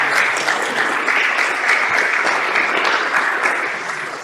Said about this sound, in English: So please, a big round of applause for Michał.